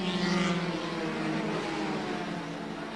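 Formula 3 race cars at Silverstone in 1983, a loud engine roar with a high droning tone that shifts as the cars pass, fading slightly toward the end.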